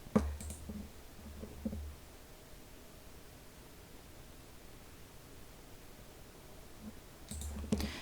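Mouse clicks in payroll software on a computer: a few faint, sharp clicks near the start and again near the end, separated by quiet room hiss, with no talking.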